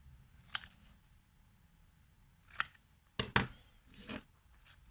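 Scissors cut out a printed image glued onto thicker paper, giving several sharp separate snips with quiet pauses between them, close by, with no talking.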